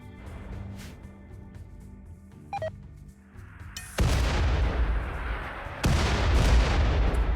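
Mortar volley in the RimWorld video game: loud, dense booming blasts start partway through, with a second heavy burst hitting shortly after, both filling the mix with broad rumbling noise.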